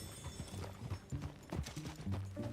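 Horse hooves clip-clopping steadily at a walking-to-trotting pace in Red Dead Redemption 2, a close, continuous rhythmic pattern of hoof strikes over an outdoor ambience, with no talking.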